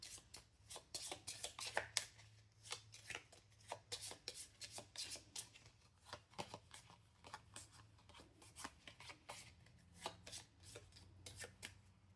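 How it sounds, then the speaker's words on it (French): A deck of cards for the board game Moon Colony Bloodbath being shuffled by hand: quick papery riffles and rubbing swishes in repeated bursts, close and fairly quiet, with no voices. "On va mélanger tout ça."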